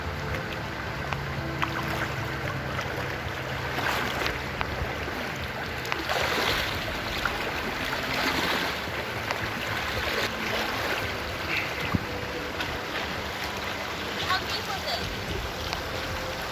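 Legs slosh and splash through a cold, shin-deep shallow creek, with steady nearby water rushing and irregular wading splashes throughout.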